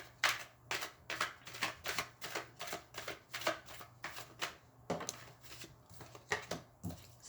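A Rider-Waite tarot deck being shuffled and handled, with a steady run of crisp, close papery riffles and snaps that continue across the whole stretch, no talking over them.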